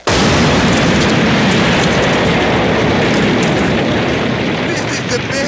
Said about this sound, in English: it's a bomb, and the entire shack blows up as Otto runs away.